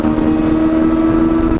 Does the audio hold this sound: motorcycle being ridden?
yes